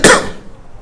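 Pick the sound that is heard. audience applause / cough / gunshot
cough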